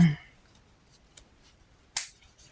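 Scissors cut into a Dollar Tree cosmetic bag: two brief, quiet snips about a second apart in an otherwise hushed room.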